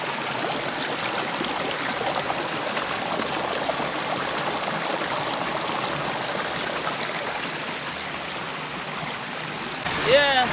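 Water runs steadily from a tap while a pot is washed, a continuous close splashing rush lasting the whole stretch, with a brief louder clatter near the end.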